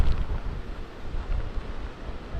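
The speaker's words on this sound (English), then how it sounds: "being in the wind gusts and the rain that you're in right now" Wind gusts buffet the microphone during Hurricane Ida's landfall, a low, uneven rushing roar that swells and dips over a couple of seconds, with no voices.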